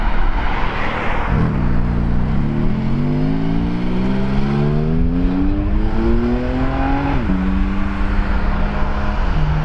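A green Porsche GT4 RS at a car meet at Donington Park revs up hard through its gears, the engine note climbing in a rising whine with a shift partway through, loud and near.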